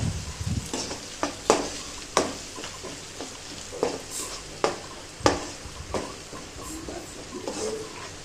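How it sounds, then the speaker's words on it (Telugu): Ginger garlic paste with turmeric fries in a pan for a beetroot curry, a constant sizzling hiss broken by repeated scraping strokes of a stirring spoon, close and prominent. "ఒక 2 minutes అల్లం వెల్లుల్లి పేస్ట్ పసుపు పచ్చివాసన కొంచెం పోయే వరకు వేయించి"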